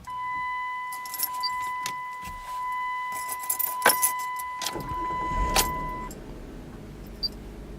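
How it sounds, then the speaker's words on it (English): A key slides into the ignition of a 2001 Chrysler Sebring: a jangle of keys on a ring, sharp metallic clicks as it seats and turns, then a brief chime tone and interior rustling. "Let's go ahead and stick her in the key slot."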